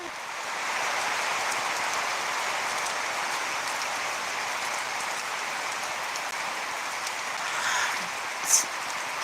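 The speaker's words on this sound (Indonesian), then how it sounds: "Hujan juga ya." Steady rain falls outside a home in Indonesia, an even close hiss that carries on without a break, with a small knock near the end.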